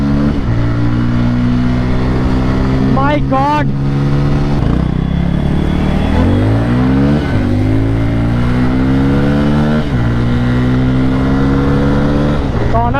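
A Bajaj Pulsar N250, a 250 cc motorcycle, revs hard several times, its engine pitch sweeping up and down in loud rising and falling bursts, with a brief exclamation from a person over it.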